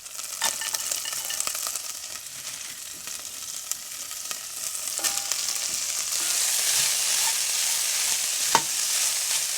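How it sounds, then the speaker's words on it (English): Cabbage and carrots sautéing in sesame oil with garlic at a lakeshore campsite, a steady bright sizzle with occasional stirring clicks, close and rising slightly toward the end, with no voices. "now I'm going to saute the cabbage and the carrots in some sesame oil and garlic"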